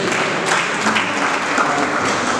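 A crowd at the launch of a socio-cultural center in Kikwit applauds, the clapping and cheering dense, loud and steady throughout with no speech over it.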